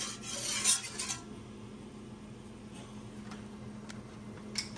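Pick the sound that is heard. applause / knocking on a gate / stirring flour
stirring flour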